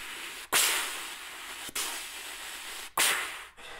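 Three sharp, breathy voiced "ka" bursts of air imitating clarinet tonguing, each starting abruptly and fading, spaced at a steady pace with no instrument behind them.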